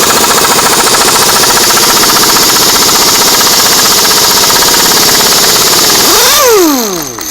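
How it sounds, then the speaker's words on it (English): An air impact wrench hammers at a Ford 7.3 Godzilla engine bolt, a high-torque torque-to-yield fastener, during front cover and oil pan removal. A loud, continuous rattling burst lasts about six seconds, then the tool winds down with a falling whine. "I have this air impact set quite low, and I know the torque on this is ridiculous."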